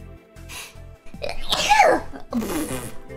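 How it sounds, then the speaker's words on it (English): A single loud, close sneeze bursts out over light rhythmic background music, with a short intake before it and a trailing sound after. "I have to sneeze."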